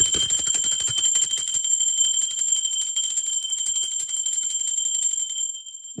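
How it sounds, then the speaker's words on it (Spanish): A bright bell rings with a sustained high, shimmering tone that slowly fades, heard alone and close with no talking. "Va campana."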